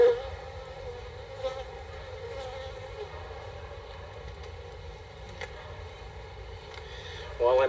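Honeybees drone steadily in an open hive during an inspection, a thin, continuous buzz with small surges and a few sharp clicks, while a voice talks faintly in the background.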